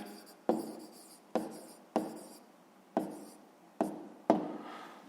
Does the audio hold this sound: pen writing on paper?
yes